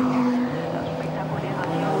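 A Porsche GT3 race car in the Nürburgring 24-hour race works its way through traffic, a steady engine roar with other cars passing, under a commentator talking.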